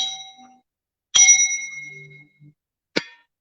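A meditation-closing bell rings out in three separate strikes, each a clear metallic ding with a long shimmering decay, the middle strike loudest and the last shorter, in an otherwise quiet room.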